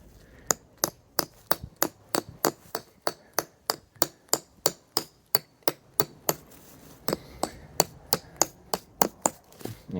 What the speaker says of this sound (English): Helps if you hold the hammer the right way